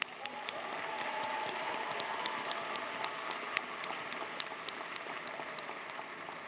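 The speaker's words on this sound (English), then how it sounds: "Let's applaud our law school graduates." Applause for law school graduates at a university fall commencement ceremony, a sustained wash of clapping from a large audience, steady and even with scattered sharper claps, with no talk over it.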